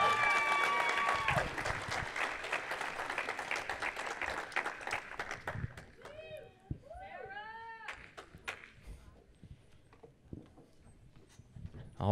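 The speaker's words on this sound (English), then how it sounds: "Let's give him a round of applause." An audience applauds as volunteers come on stage, the clapping loud at first and then fading, followed by whoops and voices calling out over the thinning claps.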